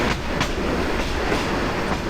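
The Kishoreganj Express intercity train rumbles along with steady clickety-clack wheel noise, loud and continuous throughout.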